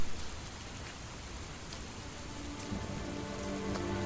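Steady rain falls over open hill country, a dense even patter of drops on the ground and surfaces filling the whole stretch at moderate level, with a few slightly sharper drips near the end.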